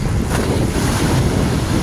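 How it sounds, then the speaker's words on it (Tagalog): Strong waves from the flooding Laguna Lake at Baclaran, Cabuyao City, crash and churn in a dense, loud rush mixed with heavy wind buffeting the microphone. "Ang lakas ng hampas ng alon."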